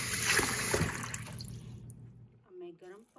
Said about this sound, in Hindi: अब मैं गर्म पानी इसके अंदर डाल रही हूँ।